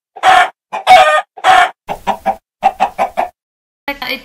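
A rooster, or a cartoon voice imitating one, clucks in loud, close bursts: three long squawks followed by a quick series of shorter clucks, then a pause and a final call.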